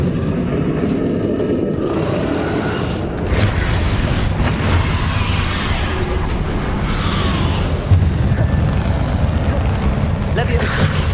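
Confringo spell blasts in Hogwarts Legacy combat go off as repeated booming explosions over a dense, continuous roar of game effects and music, with a voice calling out spells.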